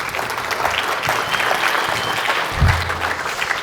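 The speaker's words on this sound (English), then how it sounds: "Let's give a good round of applause to everyone." An audience at a manufacturing demo day event gives a sustained round of applause, dense overlapping clapping at a steady moderate level, with a brief low thump partway through.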